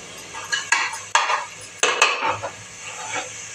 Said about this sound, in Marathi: कांदा भाजून घेते.